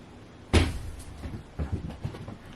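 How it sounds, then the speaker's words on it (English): A door is blown open by the wind indoors: one sharp close knock or bang, then a few softer rattles and knocks over the next second or so, with no talk. "The wind just blew the door open and it's scared her"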